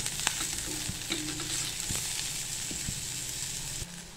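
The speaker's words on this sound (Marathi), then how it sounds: "तर हा पहा इथं आपला कांदा छानपैकी परतत आलेला आहे।" Onion sautés in oil in a kadhai for spicy brinjal curry, a close, steady sizzle with regular scraping and tapping strokes of a spatula, no voices.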